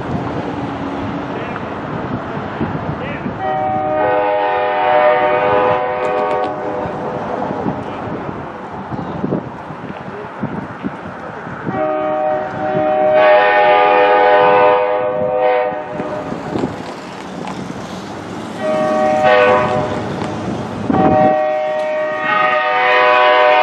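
Pere Marquette 1225 steam locomotive running the North Pole Express near the South Washington Street railroad crossing in Owosso, Michigan, sounding long chords of its horn over rumbling wheels and steam as it passes close by.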